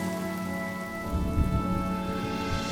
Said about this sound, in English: The rain will accompany you, and the rain will bless you.